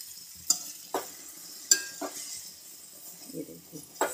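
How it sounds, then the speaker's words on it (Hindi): Veg macaroni pasta is stirred in a pan, with a spoon scraping and clinking against the metal in several sharp strokes over a soft sizzle and faint background murmur. "अब इस सबको अच्छे से करेंगे मिक्स"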